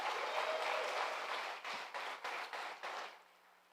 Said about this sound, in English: Please join her in a round of applause